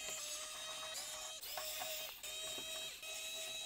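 Small bolts being unscrewed around the circular base area of a Mac Mini M2 Pro during a teardown, giving a steady close-up ratcheting, clicking mechanical sound with a few brief pauses.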